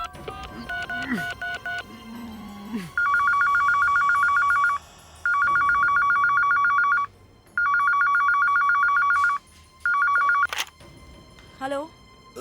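An electronic telephone rings in repeated long trilling bursts separated by short pauses, loud and close, with speech and other sounds heard before and after.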